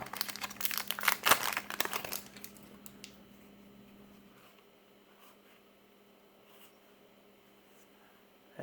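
Crinkly plastic wrapper of a sealed Star Wars CCG Young Jedi Duel of the Fates card pack being torn open, with a loud burst of crumpling for a couple of seconds before it fades to quiet handling.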